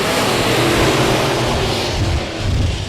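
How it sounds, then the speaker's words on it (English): Race car engines roaring together at the start of a short-track race at I-37 Speedway, a dense, loud, continuous engine roar with no talk. "Lights are out, firing up the engines."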